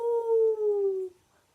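A person imitates a wolf howling: a single sustained, tonal howl with a gently falling pitch, held for about a second and then tapering off, close and fairly loud against an otherwise quiet background.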